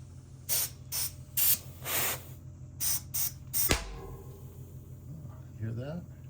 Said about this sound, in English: I just sort of blasted some air into the valve stem there and got it seated.